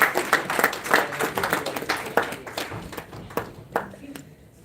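An audience at a book launch event in the UK applauds a panelist, with a burst of clapping that gradually thins out and fades, heard over a voice speaking at the same time.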